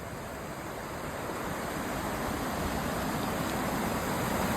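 Waterfall at night, heard from near its top, a loud unbroken rushing roar of falling water filling the whole stretch with a steady, even texture and no distinct events or voices.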